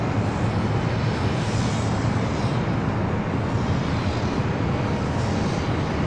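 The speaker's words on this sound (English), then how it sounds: "As we wait for that Volaris A320 to take off here on the north side." A Volaris Airbus A320 takes off from the north side at LAX, its jet engines giving a steady, loud broadband roar that holds level throughout, with no voices.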